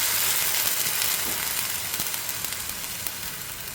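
Hot water poured into a jaggery mixture in a pan sizzles and hisses steadily, loud and close, slowly easing off with faint crackles and no voices.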